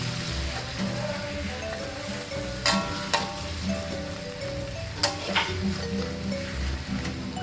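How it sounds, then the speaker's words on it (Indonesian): Spices stir-frying in a pan for Gulai Sayur Tahu with Talua Barendo, a steady close sizzle with a few sharp scraping and stirring clatters, and no voices. "Jadi kita tumis"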